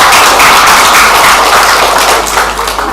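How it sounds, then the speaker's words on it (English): Applause from an audience at a school career fair, a dense steady wash of many hands clapping continuously and loudly for the full stretch without a break. "Give a big round of applause to him"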